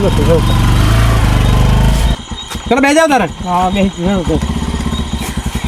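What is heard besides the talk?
motorcycle engine starting and running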